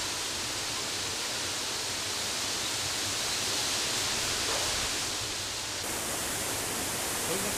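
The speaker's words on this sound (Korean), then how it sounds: "수려한 풍광을 자랑하는 천재연 폭포. 아름다운 풍광만큼이나 수량도 풍부하다." Steady, dense roar of water pouring over Cheonjiyeon waterfall, a full, unbroken rush heard close with no voices over it.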